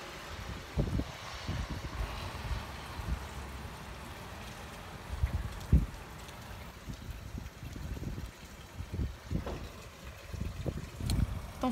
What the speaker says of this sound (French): Vous entendez le vent qui s'engouffre là ?